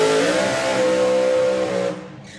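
A supercharged nitro dragster engine roars at a drag race at Santa Pod Raceway in the UK. The blast is loud and close, with a rising pitch, holds steady for about two seconds, then cuts away.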